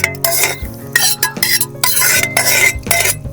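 Cooked dal is added to spinach in a pot and stirred, with repeated scraping and clinking of a spoon against the pot over a soft simmering sizzle.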